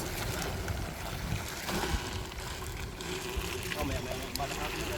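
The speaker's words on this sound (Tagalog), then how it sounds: "Parang lumalakas na guys yung alon." Sea waves grow rougher around a small boat out at sea as a storm approaches, a constant loud churning wash and wind roar under a noisy, busy mix with people talking aboard.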